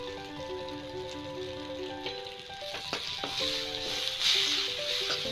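Red chili powder and cumin powder fry in hot oil in a pan for an okra dish, making a steady close sizzle that swells louder toward the end, with faint tonal sounds behind it.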